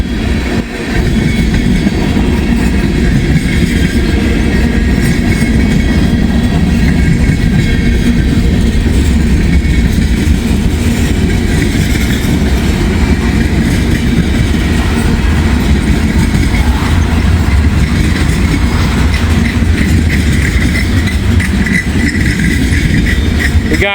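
A freight train with distributed power units rolls past on a rainy day, a loud, continuous low rumble of engines and wheels on rails that holds steady for the whole stretch with no voices.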